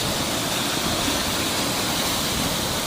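A river rushes steadily past an eroding sandbar on a former lakebed, a continuous broadband wash of flowing water, close and even, with no voices.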